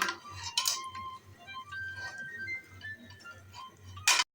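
A spoon scrapes and clinks around a metal pot while karahi is stirred, with a steady run of close, light scraping and tapping strokes and a sharper clank near the end.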